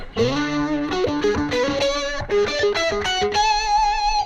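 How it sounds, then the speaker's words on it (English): A distorted electric guitar plays a quick pedal-tone lick, darting between higher notes and a recurring anchor note before settling on a sustained tone. "I'll show you one cool scale that I used. It has some pedal tone licks in it."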